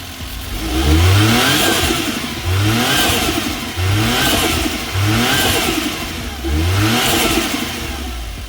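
A Suzuki DA64W turbo engine revs in repeated short bursts, about five loud swells that rise and fall evenly, heard up close with a whooshing turbo hiss over the engine note.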